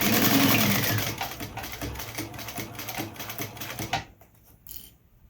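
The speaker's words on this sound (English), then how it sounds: "run a 1/4 inch seam allowance stitch" Sewing machine stitching a 1/4 inch seam allowance through three layers of a sling crossbody bag, a steady close rapid mechanical chatter that stops abruptly near the end, leaving quieter handling sounds.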